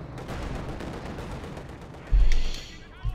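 Explosion in the Company of Heroes 2 real-time strategy game as a machine gun crew is blown apart, a sudden loud booming blast cutting through continuous distant battle gunfire, with a second short thump just after.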